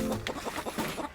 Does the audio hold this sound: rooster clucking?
yes